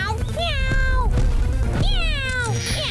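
A cartoon cat meows loudly twice, each a drawn-out, wavering call, over a busy soundtrack bed.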